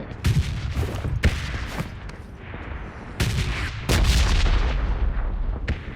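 Red zone bombardment in the BGMI battle royale game: a series of heavy booming blasts and crackling gunfire-like bursts, some sharp and close, others rumbling, ending in a sustained loud barrage.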